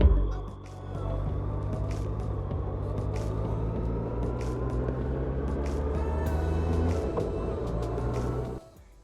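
A Suzuki Bandit 1200 motorcycle rides across open moorland roads, its engine a steady droning rumble under wind noise before cutting off abruptly at the end.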